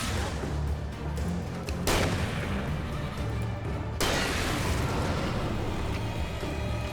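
Gunfire from a handgun in the video game Alan Wake Remastered: two sharp, loud shots roughly two seconds apart, each followed by a rumbling tail over a dense, steady background.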